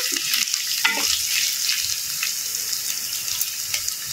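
Onions sauté in a pan for poha upma, giving a steady close sizzle with faint stirring scrapes and no talking.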